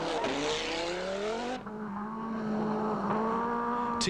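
A 1985 Audi Sport Quattro rally car races past with a loud, sustained engine note whose pitch rises and falls through gear changes, close and dominant with no voices.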